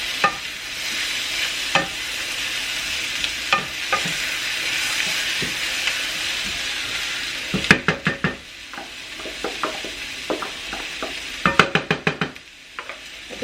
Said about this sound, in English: Now I'm going to add in my onions and my pepper. And let that cook in there as well.